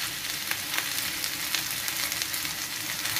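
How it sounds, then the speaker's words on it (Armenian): Onions already fried in a pan on a gas stove, with potatoes just added for a pie filling, sizzle steadily and loudly in hot oil, a dense continuous crackle with faint stirring and no voices. "Սոխ արդեն տապակվեց, հիմա ավելացնում ենք կարտոֆիլը,"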